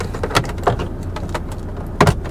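Yellowed, nicotine-stained key rings on a cheap VW Passat CC's car keys jangle close by in a few short metallic bursts, with a larger rattle near the end.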